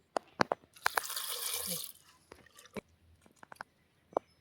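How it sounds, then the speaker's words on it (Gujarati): Water splashes into a cooking pot of chopped bottle gourd in a short pour lasting about a second, surrounded by scattered clinks and taps of the pot and utensils, with no talking. "થોડુંક પાણી પણ નાખી દઈ"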